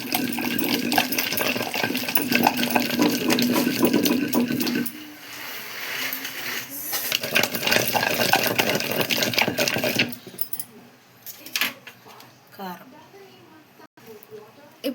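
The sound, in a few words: pounding soaked tamarind in a stone mortar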